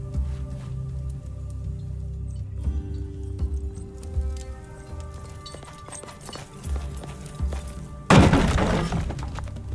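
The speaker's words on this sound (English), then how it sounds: "You can't go around smashing things." Smashing in Expeditions: Rome, where wood is broken up: a sudden loud crash rings out near the end after quiet ambient music and light knocking sounds.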